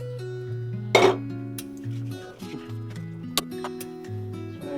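A pressure cooker holding a little washed chicken for chicken khichuri is set down on a kitchen stove with one sharp metallic clunk, followed by a few softer clinks over a steady tonal background.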